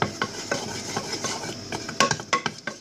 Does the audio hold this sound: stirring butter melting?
yes